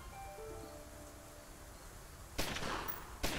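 Two sharp gunshot bursts from the Omertà video game, coming after a quiet stretch with faint tonal music, the second blast shorter than the first.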